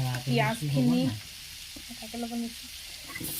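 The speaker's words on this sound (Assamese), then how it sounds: "পিঁয়াজখিনি দি দিছোঁ ভাজিব লাগিব" Chopped onions fry in butter in a pan, a soft close sizzle running under a person speaking.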